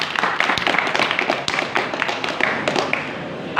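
Church congregation clapping at a sermon event, a dense run of individual hand claps with sharp taps close by, steady and fairly loud throughout.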